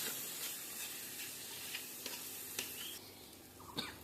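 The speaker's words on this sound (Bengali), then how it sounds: "ভালো করে মশলাটাকে কষিয়ে নিতে হবে" Spice paste with chili powder sautéing in a pan gives a faint, steady sizzle. Light stirring and scraping taps come through at intervals, heard close up with no talking.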